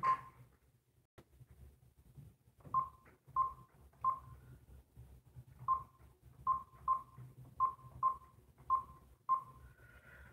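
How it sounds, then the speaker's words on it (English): Telephone keypad tones dial a phone call, about a dozen short evenly spaced beeps in a steady sequence, clear and close against a quiet low hum with no talking. "Let me make a phone call."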